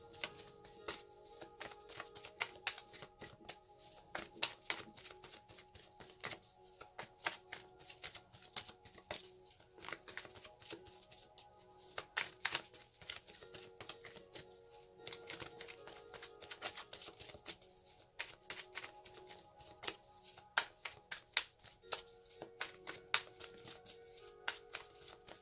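Tarot cards shuffled for a Scorpio reading before a card is drawn, with long continuous soft flicking and clicking of cards, quiet and close, with irregular sharper taps and a faint tonal hum behind.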